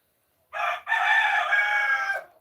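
A single rooster in a backyard coop lets out one loud, close cock-a-doodle-doo crow lasting nearly two seconds, with a brief break early in the call.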